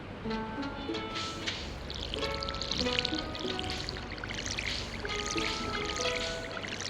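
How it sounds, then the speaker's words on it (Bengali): A watering can pours over crops in the Stardew Valley video game, a soft, steady splashing stream with light game music tones playing alongside. "পানি ঢালাই, বৃষ্টি হয় নাই তো।"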